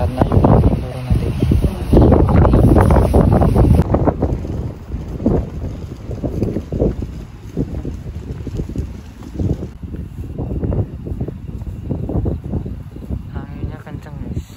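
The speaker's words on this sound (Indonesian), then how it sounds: "Anginnya kencang, guys." Strong wind on Mount Ungaran roars steadily and loudly against the microphone, heaviest at the start, while voices talk throughout.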